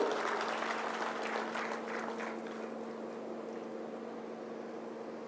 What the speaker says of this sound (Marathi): आपण सगळ्यांनी या सगळ्यांसाठी जोरदार आपण टाळ्या वाजवल्या पाहिजे